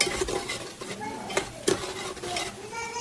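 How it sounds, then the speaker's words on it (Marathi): Coriander and garlic-ginger paste being sautéed in oil in a pan for a village-style chicken curry, with soft sizzling, a spoon scraping and stirring, and a few sharp clinks of metal utensils. "थोडीशी कोथिंबीर आणि लसूण अद्रकची पेस्ट येते आपण परतून घ्यायची आहे"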